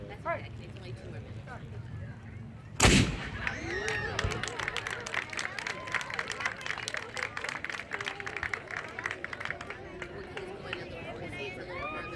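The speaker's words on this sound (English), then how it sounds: "Cannon fire, number 4." A single loud, sharp cannon blast at a Fourth of July ceremony is followed by crowd chatter and scattered clapping from people nearby.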